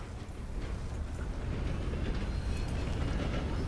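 A train rumbles past in Red Dead Redemption 2 as a continuous, loud, broadband roar that swells slightly and stays dense throughout, with no talk over it.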